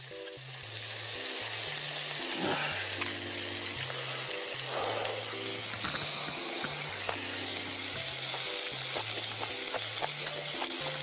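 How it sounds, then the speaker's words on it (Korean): Kimchi and pork belly grill on a cast-iron cauldron lid over a wood fire in the mountains, giving off a steady, loud, close sizzle and hiss throughout, with light background music underneath. "이 가마솥에는 무조건 김치 구워야 돼."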